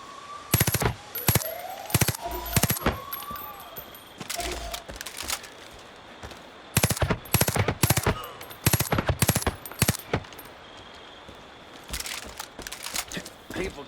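Mortar fire and explosions in the video game Far Cry 5, a series of sharp loud blasts and cracks in uneven clusters, with faint game sounds between them.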